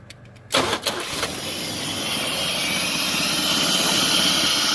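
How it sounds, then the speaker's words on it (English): Mom's truck engine cranking, then catching, with a short burst of starter turnover that settles into a loud, steady idle rumble up close. "Let's crank her up again"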